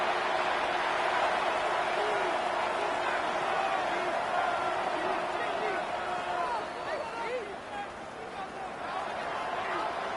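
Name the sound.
football crowd cheering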